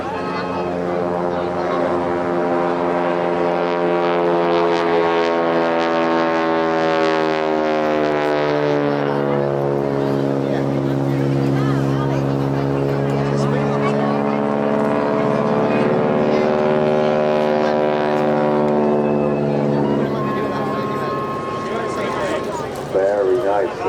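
WW2 Harvard trainer aircraft flying aerobatics at an airshow, its propeller engine droning and shifting pitch as it climbs and dives, with a commentator speaking over it throughout.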